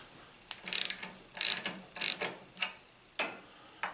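A socket wrench ratchets on the Tecumseh H60 6HP engine of a 1972 Hahn-Eclipse Snow Giant snow blower, giving close, crisp bursts of clicking in short irregular strokes with brief pauses between.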